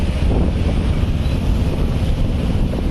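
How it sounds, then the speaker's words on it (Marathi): A swollen river rushes loudly and continuously with a heavy low rumble, partly buffeted by wind on the microphone; no one speaks. "जोरात पाणी"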